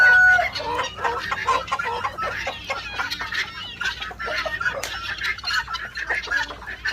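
Farm chickens, hens let out of their coops, cluck nearby in a busy, overlapping chorus of short repeated calls that carries on steadily throughout.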